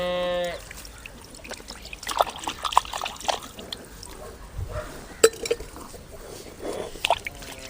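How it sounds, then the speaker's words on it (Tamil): Water is poured and trickles over a stone wet grinder to rinse leftover dosa batter, with irregular splashes, drips and sloshing, close and moderately loud. "கல்லில் இருக்கிறது வேஸ்ட்டாக போயிடும் கொஞ்சமாக தண்ணி வச்சு கழுவி எடுத்துக்கலாம்"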